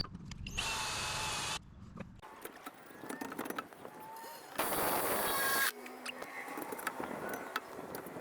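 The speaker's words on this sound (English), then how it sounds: "I'm barely clearing with my drill" Two bursts of a power drill whirring steadily at close range while drilling holes to mount a van side ladder, each lasting about a second, separated by quieter handling clatter and shuffling.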